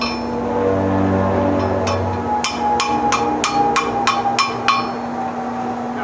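Hot metal struck with a spring fuller, a run of about nine sharp, ringing hammer blows that fall in a quick, even rhythm after a short stretch of low hum.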